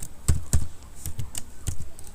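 Typing on a computer keyboard gives a quick, irregular run of crisp clicks and taps, close and fairly soft, with no talking.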